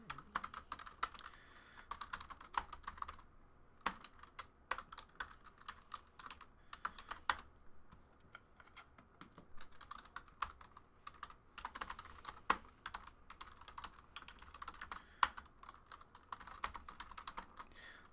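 Rapid, uneven typing on a computer keyboard clatters close by, with short pauses between bursts of keystrokes and occasional sharper key hits.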